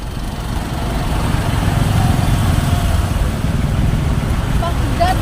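Congested road traffic in Cebu gives a steady drone of idling and revving car and motorcycle engines close by, with faint voices mixed in.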